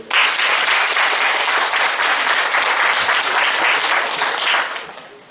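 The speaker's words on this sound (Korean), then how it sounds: "뜨거운 박수 부탁드립니다." Warm, dense applause from a seated audience at a university game and interactive media program information session, a loud, steady wash of many hands clapping together for about five seconds before tapering off quickly.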